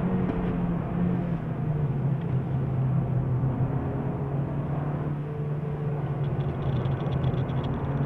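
2017 Honda Civic Si on a race track, a steady engine drone with a low rumble and road and wind noise, fairly constant throughout with no talk.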